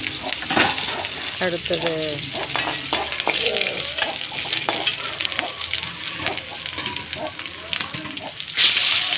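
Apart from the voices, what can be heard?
sautéing red and green chillies in a pan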